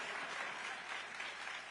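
A large crowd applauds and cheers steadily at an outdoor political gathering, dense and continuous throughout the short stretch with no break.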